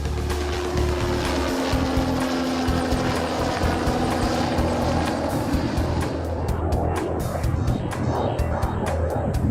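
Steady propeller-driven aircraft drone during a final descent, a continuous mid-loud whirring hum with rhythmic chopping pulses that grow choppier toward the end, no voices.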